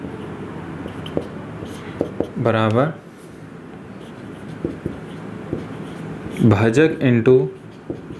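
Faint scratchy writing strokes and small taps on a board or page during a Class 10 maths lesson, mostly under a man's teaching speech, with a few quiet gaps between.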